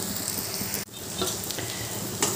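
Ground turmeric and cumin sizzle in hot oil in a pan for spicy prawn curry, a steady close crackle with a brief dip partway through.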